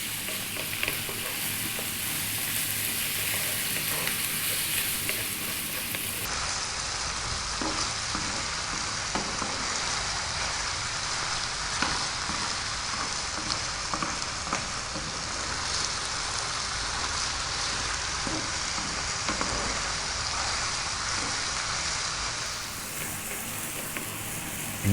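Pieces of lamb fry in a hot pan, giving a loud, steady sizzle that runs unbroken throughout, with light scraping as the meat is kept moving.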